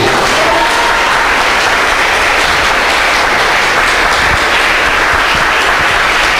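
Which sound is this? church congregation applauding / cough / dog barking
church congregation applauding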